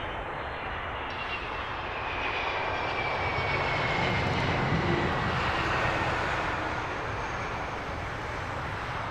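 A plane landing at Heathrow Airport, its engine roar building and holding loud and broad for several seconds before easing slightly, heard alone with no voices.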